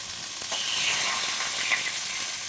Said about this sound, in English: And we're getting some really great... A nice sear. A really nice sear.